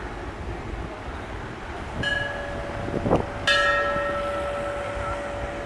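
Metal bells ring at a hillside Ganesh temple in East Sikkim, a couple of clear bright strikes with lingering ringing tones over soft outdoor background noise, fairly near and without voices.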